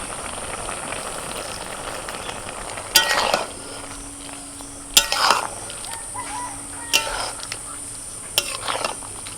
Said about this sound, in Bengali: চিনি দিয়ে একটু নাড়াচাড়া করেছি